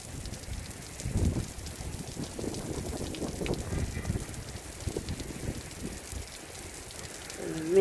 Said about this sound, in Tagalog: So, tapos ngayon umuulan na naman.